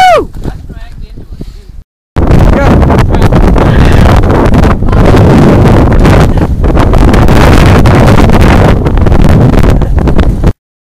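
Heavy wind buffeting the microphone outdoors on a cold, windy day, a loud continuous roar that starts after a brief quiet opening and runs almost to the end, drowning out everything else.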